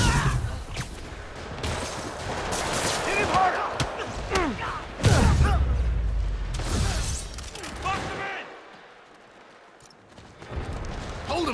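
Gunfire in Marvel's Spider-Man Remastered, repeated bursts and shots mixed with game effects and score, loud and close, with spoken dialogue over it and a quieter lull near the end.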